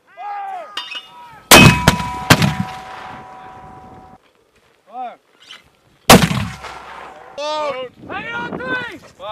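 Mortar rounds fired during military training, two loud, sharp blasts with ringing metallic tails several seconds apart, set among shouted commands.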